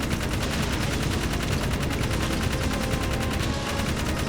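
Rapid, continuous gunfire from the video game Jak 3 rattles steadily and densely as enemies are shot, a loud unbroken burst with no pauses.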